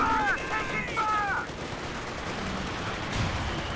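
Machine gun fire in Company of Heroes 2, short rattling bursts amid gunfire and battle noise, fairly distant, with unit voice lines heard briefly at the start.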